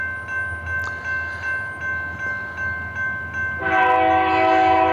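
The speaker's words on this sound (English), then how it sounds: "And it is a loaded coal train." Loaded coal train rolling past on a Kentucky rail line, rhythmic wheel and car noise pulsing steadily before a loud, sustained multi-tone horn blast kicks in near the end, close by.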